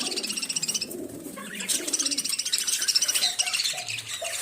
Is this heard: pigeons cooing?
yes